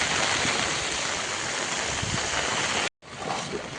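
Floodwater from the swollen Sater river rushes in a loud, steady roar that cuts out briefly and then resumes.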